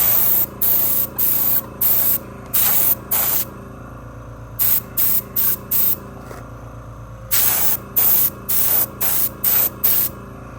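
Preheated hot screws of a Vmac9 upper are spray painted for a color match, with a series of loud, close aerosol bursts, short and longer, separated by brief pauses; no one speaks.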